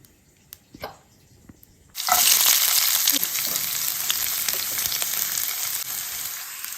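Two cloves of garlic dropped into hot sesame oil in a pan for lemon pickle burst into a loud, steady sizzle that carries on to the end, after a few quiet knocks at the start.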